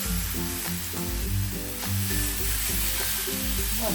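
Uttapam batter spread thin across a hot, oiled tawa sizzles steadily and loudly, a close, continuous frying hiss.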